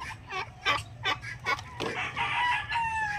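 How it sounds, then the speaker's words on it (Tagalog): Broad-breasted turkey hens cluck and call in a farmyard, a series of short bursts followed by a longer overlapping stretch of calls, nearby and fairly loud with no speech. "Tapos ito yung mga inahin."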